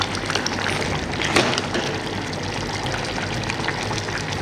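Goat curry with tomato being stirred in a pot, a steady close broadband sizzle and scrape running continuously with a slightly louder scrape partway through, no voices.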